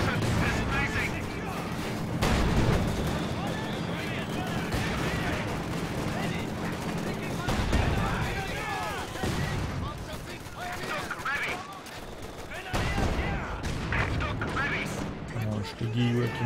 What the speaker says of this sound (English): Light artillery barrage at your command.